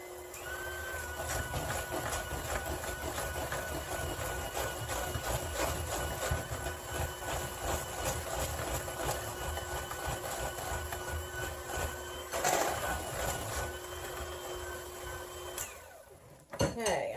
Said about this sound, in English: So I've got my blender ready, my mixer, and I'm going to mix this until it's light and fluffy.